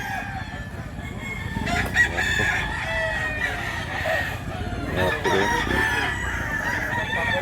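Roosters crowing over the clucking of chickens at a Filipino rooster market, several drawn-out crows rising above a steady background of hens and birds, fairly close, with little or no talk.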